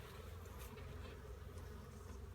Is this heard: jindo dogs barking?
no